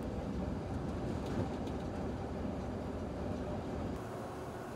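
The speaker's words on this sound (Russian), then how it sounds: "дорога, по которой мы сейчас едем на тепловозе" A diesel locomotive travels along a railway line in Abkhazia through cleared forest, giving a steady, loud rumbling drone with continuous rolling noise and no talk.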